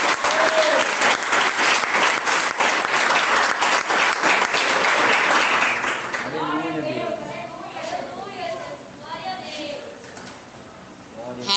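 A church congregation gives the missionary sister a loud, dense round of applause lasting about six seconds, which then fades as a voice begins speaking over the quieting room.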